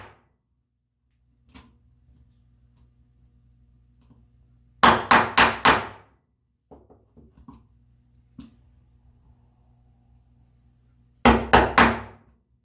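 A mallet striking a chisel while cutting joinery in the walnut side of a hand-tool bookcase: two sharp clusters of four or five quick, close raps, with a few light taps and long quiet gaps between them.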